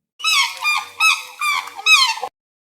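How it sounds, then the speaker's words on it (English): A swan call from a bird-sounds set: four honking, nasal calls in a row, loud and clean with no background, ending abruptly. "Swan."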